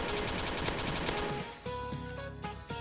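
Weapon fire in a Roblox game: dense rapid bursts of gunshots fill the first second and a half, then thin into sparser shots over tonal game sounds, loud and close.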